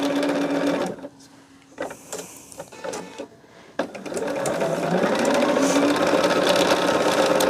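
A sewing machine stitches in short stop-and-start bursts, then settles into a long, steady whirring run, close and clear.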